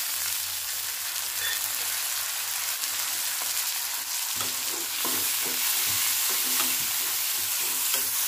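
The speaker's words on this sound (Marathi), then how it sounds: "कांदा भाजत आलेला आहे" Onion fries in a pan for a carrot and pea vegetable dish, a constant hiss of sizzling oil joined midway by repeated scraping and clinking strokes of a spatula stirring.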